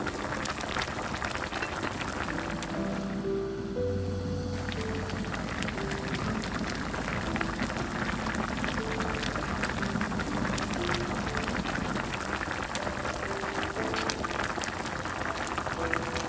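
Korean braised beef short ribs simmer in a soy sauce braise, a steady bubbling and gentle sizzle holding at a soft, even level without pause.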